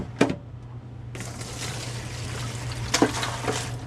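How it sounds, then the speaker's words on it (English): Hot dye water splashes out of a pot through a colander while wool is being dyed, a sustained rushing, trickling pour that starts abruptly after a couple of small clinks, with no talking. "I will pour it through my colander."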